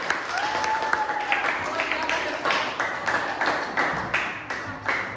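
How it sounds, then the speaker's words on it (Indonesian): A class of students claps together in sustained applause for a presenting group, a dense, even patter of hands lasting several seconds. "Kita beri tepuk tangan untuk kelompok 4."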